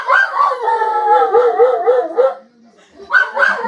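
A Cane Corso howls in long, wavering, tonal cries that rise and fall at close range, breaking off briefly before starting up again.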